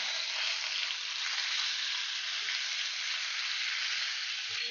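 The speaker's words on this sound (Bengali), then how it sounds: "আর এখানে আদা রসুনের পেস্ট দিয়ে দিলাম 1 চামচ।" Ginger-garlic paste fries in hot oil with a continuous hissing sizzle, steady and fairly loud for the whole stretch with no voices.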